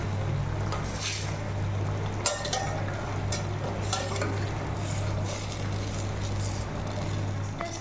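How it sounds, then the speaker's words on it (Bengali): Pabda fish cooking in mustard gravy, stirred gently in a pan: a constant low hum and soft sizzle under light utensil scrapes and clinks, with no talk. "এটাকে নাড়তে হবে, কারণ বেশি জোরে নাড়া যাবে না, কারণ মাছগুলো খুবই নরম থাকে।"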